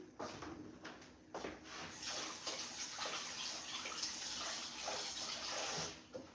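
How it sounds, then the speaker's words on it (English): Running tap water splashes steadily over hands at a kitchen sink, a continuous close hiss of flowing water with small shifts as the hands move, lasting several seconds with no talk. "Wash my hands."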